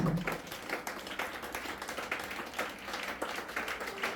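A church congregation applauding and clapping in sustained, dense rhythm for several seconds, a steady wash of hand claps with no talk over it.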